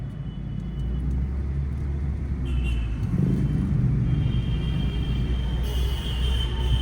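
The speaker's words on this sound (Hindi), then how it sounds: "फर्स्ट गियर में करो इसको। चलो, हल्का सा एक्सीलेटर लो, छोड़ो क्लच।" A car pulls away in first gear on a half-pressed clutch in city traffic, its low engine drone steady and near, with a faint higher tone entering partway through and no talk.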